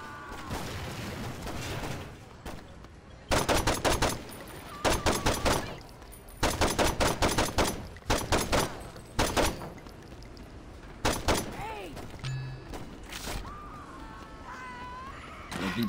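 Enemy gunfire in Saints Row 2 arrives in rapid, loud bursts, repeated volleys spaced a second or two apart, with a few squealing, cat-like cries between them.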